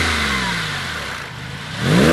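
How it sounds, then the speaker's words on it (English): A 2002-2003 Porsche 996 Carrera with a Fabspeed Maxflo muffler and factory tips revs up close by, the engine note falling back before climbing sharply again in a loud, throaty surge. "Now we're going to take it out for a sound check, sound bite on this beautiful Carrera."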